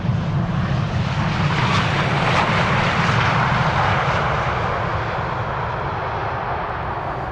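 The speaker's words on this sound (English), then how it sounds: "It's an idle reverse landing." An airliner lands at Amsterdam Schiphol with idle reverse thrust, a loud, close, sustained engine roar and rumble that swells briefly and then eases slightly as it rolls on, no voices.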